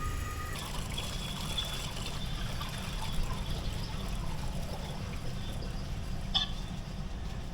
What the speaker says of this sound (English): you just flush the toilet again